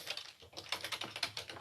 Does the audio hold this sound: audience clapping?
no